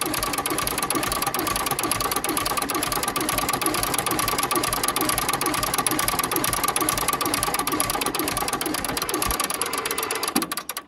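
An old engine is cranked over to pull fuel through, a fast continuous mechanical chatter and rumble that runs loud and steady before cutting off at the end.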